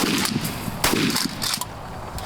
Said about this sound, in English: I shot at it